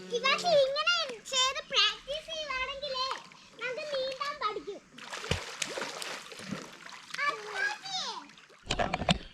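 At Anakkayam, children splash in the water while swimming, their excited voices shouting and chattering over scattered close splashes and sloshing, with a burst of splashing near the end.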